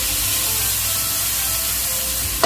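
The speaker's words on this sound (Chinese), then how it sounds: "我哋可以咧落少少酒" A splash of wine hits prawns frying in a hot wok for tomato-sauce pan-fried prawns, giving a steady, loud hissing sizzle throughout, with a brief sharper burst of spitting near the end.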